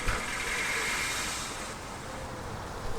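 A car motor in need of a tune-up runs with a steady, low, rough rumble that eases slightly partway through and continues without any voices.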